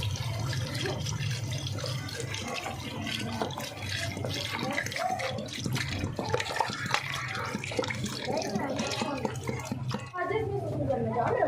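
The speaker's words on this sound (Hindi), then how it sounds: "मैं अब इसमें 2 लीटर पानी डालूँगी।" Two litres of water poured into rice in a pot for aloo chicken pulao, a steady loud rushing splash running throughout with a low hum beneath and a voice talking over it.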